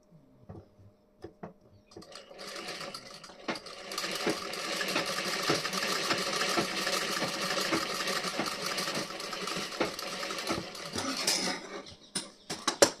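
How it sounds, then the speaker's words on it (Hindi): A sewing machine stitches the front of a blouse, starting with a few clicks and short bursts before running in a steady, fast mechanical whir for several seconds, then slowing and stopping with a couple of clunks. "तो यहाँ पे मैं पक्की सिलाई लगाऊंगी"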